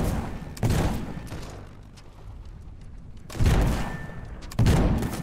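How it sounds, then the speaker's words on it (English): Airship cannons fire in the video game Black Skylands, three heavy booming blasts spaced a few seconds apart, each trailing off into a rumbling decay, loud and alone. "How do I fire my cannons?"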